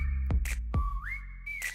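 A voice whistles in imitation of a falling missile: a sustained tone that slides upward and holds, broken by two sharp thumps, loud and close with no talking.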